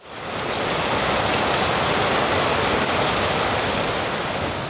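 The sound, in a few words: heavy rain falling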